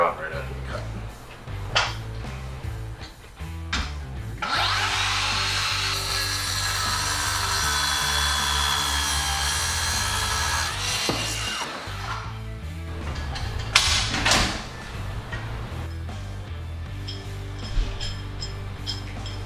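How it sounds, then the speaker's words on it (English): A circular saw fitted with a Diablo Cermet II carbide metal-cutting blade cuts through threaded rod, a loud sustained high grinding whine lasting several seconds, preceded and followed by handling clunks and knocks at close range. "I'm going to cut a piece of threaded rod with the same blade"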